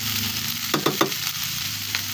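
Green beans (Baguio beans) go into a hot pan with kikiam and sizzle loudly: a dense, steady hiss, with a few quick clatters near the middle as they are stirred, close up and without talk.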